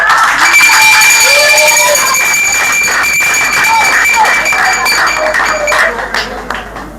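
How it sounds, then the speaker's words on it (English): A political meeting crowd gives loud, sustained applause and cheering for the guest speaker, a dense roar of clapping that holds steady before tapering off toward the end. "give him a big round of applause."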